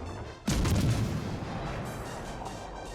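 A heavy warship cannon blast from the USS Dallas in World of Warships Legends booms suddenly, followed by a sustained rumbling roar that slowly fades, with no talking.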